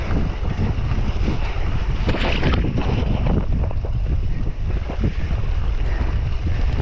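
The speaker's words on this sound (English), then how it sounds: "Oh, you see it's windy here." Strong wind buffets the microphone in a continuous low roar, with gusts rising and falling and no voices, on a cyclocross course in Zonhoven.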